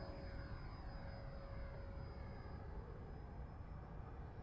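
An E-flite F-39 camo RC model airplane flies on a calm, windless morning, giving a continuous rushing roar with a thin, steady whine that stays at even loudness throughout.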